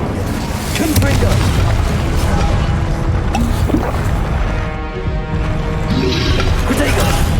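A loud, dense rumble of explosive magic from the Confringo spell in Hogwarts Legacy fills the whole stretch, with crashing bursts and booming low end continuing without pause.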